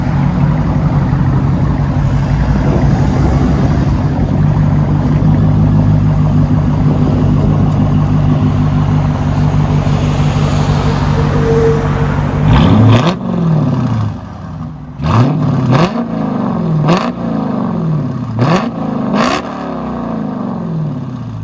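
A Dodge Challenger R/T with a 5.7L HEMI V8 and loud aftermarket exhaust idles with a deep, steady rumble, then snaps through several sharp, loud revs that each fall back quickly, heard close from outside.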